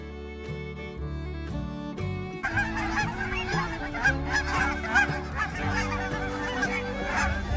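Canada geese honking in a dense flock, many overlapping nasal honks repeating over a steady musical drone, loud and continuous throughout.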